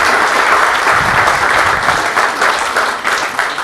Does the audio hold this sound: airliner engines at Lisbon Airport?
no